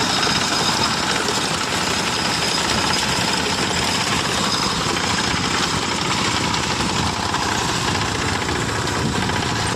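A farm machine cuts a sorghum crop in the field, its engine droning loud and unbroken with a rough, rattling vibration for the whole stretch and no speech.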